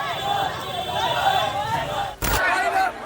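A protest crowd in support of I Love Mohammad shouts slogans in loud, ragged waves of many voices, broken by a brief sharp bang near the end.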